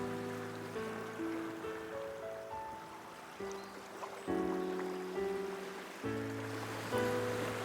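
Ocean waves in a hypnosis recording wash in and out softly at a moderate distance, with gentle rolling surges layered under sustained tonal music, no voice present.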